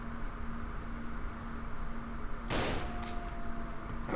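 A Dragunov sniper rifle fires in the STALKER Clear Sky game: one loud, sharp crack midway, then fainter echoing shots over a steady humming backdrop.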